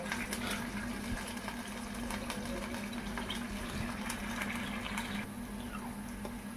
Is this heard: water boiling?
yes